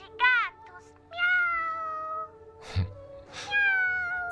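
A cat meows several times in a dubbed action film scene, clear drawn-out cries at close range with brief pauses between them and a short rustle partway through; no talking is heard over it.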